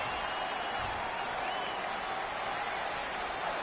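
Crowd cheering and applause from a WWE 2K20 wrestling game's home arena audience during an Iconics tag match, a steady broad roar filling the whole stretch.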